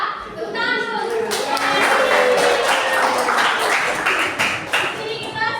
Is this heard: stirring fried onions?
no